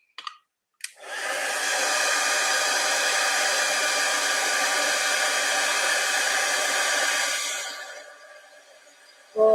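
Heat gun blowing a steady, loud, close rush of hot air for several seconds as it melts embossing powder on vellum, starting abruptly and easing off near the end.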